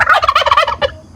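A turkey gobbles once up close, a quick rattling warble of several fast pulses ending in a short final note, heard clearly on its own.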